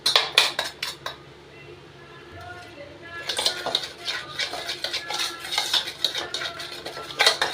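Butter being mixed into pakoda flour in a bowl, with rapid clattering spoon-on-bowl strikes in bursts, a short quieter pause, then sustained vigorous scraping and clinking, while a voice talks faintly underneath.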